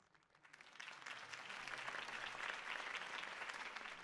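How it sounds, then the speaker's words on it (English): A crowd in a Batman video game bursts into applause that swells within the first half second, then holds as steady, dense clapping and cheering. "could have heard that applause"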